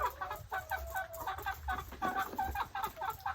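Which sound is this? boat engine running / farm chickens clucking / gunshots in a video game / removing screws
farm chickens clucking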